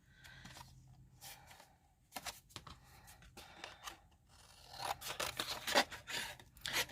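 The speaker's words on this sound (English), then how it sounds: "just want to cut it to size" Scissors snip through a sheet of watercolor card to trim it to size, giving a run of close, crisp cuts that grow louder and quicker toward the end.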